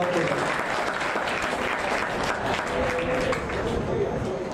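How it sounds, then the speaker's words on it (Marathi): Steady applause from an audience at a college award ceremony, continuous and even across the clip, with a faint voice or two under the clapping. "आपण याच्या तिकडे टाळ्या वाजवूयात"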